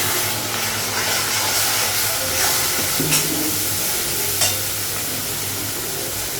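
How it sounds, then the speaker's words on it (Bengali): Spices frying in a pan on a gas stove: a loud, continuous close-up sizzle and hiss with stirring scrapes and a couple of brief sharper clatters, no talking. "মশলাগুলো একটু ভেজে নেব।"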